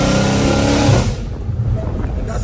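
A Dodge Hellcat Redeye with catless pipes roars hard while accelerating in third gear, a loud, close, raspy engine drone that drops off abruptly after about a second into a rougher rumble.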